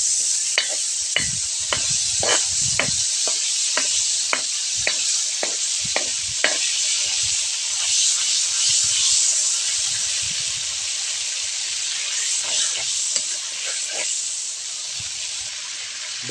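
Margarine sizzles and hisses steadily in a hot pan, a broad close frying sound that lasts throughout. A spoon or spatula gives repeated light taps and scrapes against the pan.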